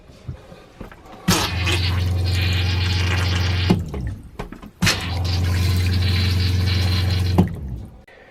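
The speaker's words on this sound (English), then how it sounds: "you're going to flush the toilet" An RV toilet is flushed twice in close succession, each flush a loud rushing gush of water over a low hum that lasts a couple of seconds and then gurgles to a stop.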